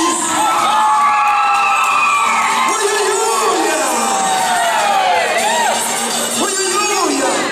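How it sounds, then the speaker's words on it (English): A crowd cheers, yells and whoops continuously at a church event, loud and close for the whole stretch, with individual shouting voices rising and falling above the mass. "Give them a big round of applause, please."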